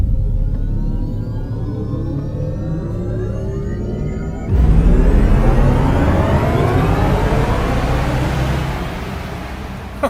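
A 2022 Mercedes-AMG EQS electric car plays its artificial race-start sound: a loud, close synthetic engine-like drone. Midway it jumps into a stronger, rising, sweeping roar, holds there and then eases slightly near the end.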